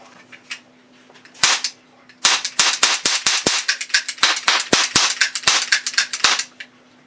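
Gunshot sound effects crack out in a rapid burst of loud, sharp shots, a few spaced at first and then a dense irregular volley, over a faint steady hum.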